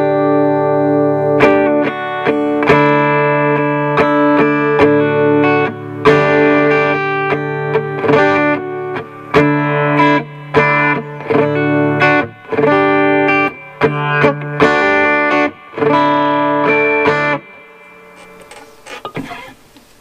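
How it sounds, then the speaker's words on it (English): Electric guitar played through a Monoprice Stage Right 15W practice amp with its reverb engaged, strummed chords and ringing notes sustaining continuously and loudly for most of the stretch, then fading into a reverb tail. "Turn that reverb down a little bit."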